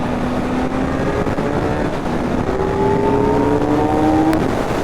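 Kawasaki Z900 motorcycle, a 2025 model, pulling steadily on the road with a rising engine tone that climbs toward an upshift into fourth gear, loud and continuous with wind noise behind it.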